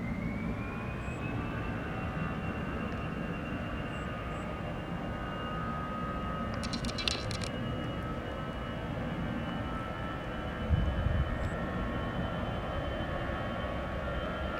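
A Batik Air Airbus A320-200 jet roars steadily on takeoff, a broad sustained engine rumble with a rising whine, heard from a distance without talk.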